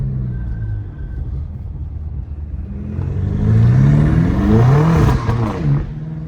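Catless BMW M5 Competition engine revving up hard, starting as a low idle rumble, then climbing through loud rising sweeps, near and alone.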